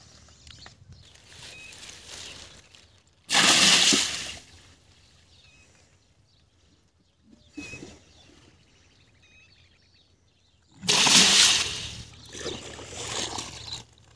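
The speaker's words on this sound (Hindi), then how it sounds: "ये चने ट्रॉली के अंदर डाल दिए जिसमें अभी पानी डाल रहे हैं।" Water pours in two strong rushing bursts into a trolley filled with chickpeas, with quieter trickling and splashing between them, heard fairly close outdoors and without speech.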